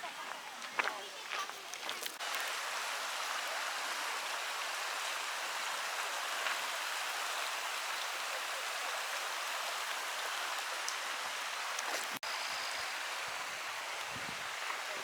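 A steady rush of flowing creek water in the Cataloochee Valley, Great Smoky Mountains, fills the background, constant and broad, with a few brief knocks.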